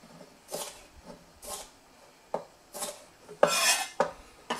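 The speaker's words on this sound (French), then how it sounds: "je coupe en brunoise" A knife dices halved, cored bell peppers into fine brunoise on a board, giving scattered quick chopping taps and scrapes, close and fairly quiet, with bursts spaced irregularly and one louder scraping stroke near the end.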